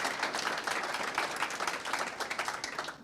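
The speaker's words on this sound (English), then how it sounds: "if you can also give an encouraging applause to the people who are going to participate in this competition" Steady applause from an event audience greeting young competition participants, dense clapping that holds at an even level throughout without pause.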